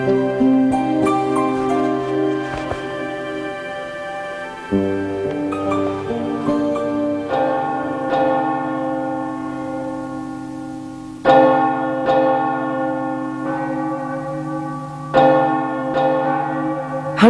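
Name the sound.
church bells tolling for the dead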